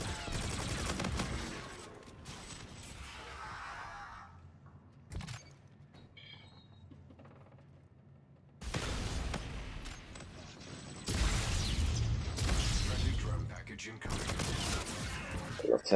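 Gunfire in the video game Call of Duty: Infinite Warfare comes in rapid automatic bursts and fusillades that stop and restart, loud and close, with talk over parts of it.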